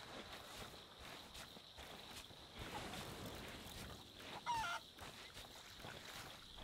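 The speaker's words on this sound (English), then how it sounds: "But I do see chickens." Chickens in the pirate video game Sea of Thieves, with faint, scattered fowl calls over a steady wash of outdoor ambience and water, plus one brief louder call near the end.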